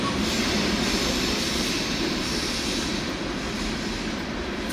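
Rail cars of a 3.5-mile freight train with six engines and 275 cars grind steadily past up close, a dense rumble laced with squealing wheels and clickety-clack.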